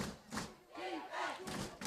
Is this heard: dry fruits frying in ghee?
no